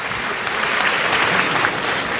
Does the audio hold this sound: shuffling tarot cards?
no